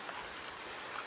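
Light rain falls steadily outdoors during a rural outing, a soft, even hiss of drops with no talk.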